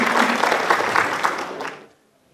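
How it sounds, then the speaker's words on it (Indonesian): Audience applause at an indoor quiz semi-final: a short burst of clapping from a crowd that fades out after about two seconds. "boleh beri tepuk tangan untuk Ibu Manggala"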